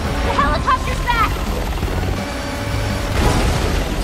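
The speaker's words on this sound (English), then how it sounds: "The helicopter's back!" A helicopter returns in the Resident Evil 6 game, a steady dense mechanical rumble and whir under loud game action with some crashing impacts.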